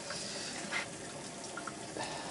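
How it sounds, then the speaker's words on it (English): Water runs continuously from the water trap of a 5 kW continuous fuel ethanol still, a steady soft trickle and splash with a few faint clinks over it. "water trap produces water continuously"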